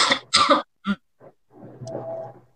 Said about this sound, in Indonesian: maaf saya ada batuk bentar.